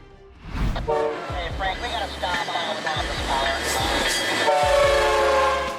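A train rumbles past with repeated loud horn blasts sounding over the rolling clatter of wheels, steady and close throughout.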